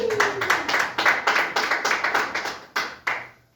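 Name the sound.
congregation applauding for the Lord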